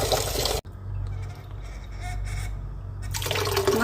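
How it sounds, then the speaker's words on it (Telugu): Water sloshes and trickles as rice is rinsed in a bowl to float out insects, a soft running-liquid sound between louder bursts at the start and end. "ఇదిగో చూడండి, బియ్యం కడుగుతుందా"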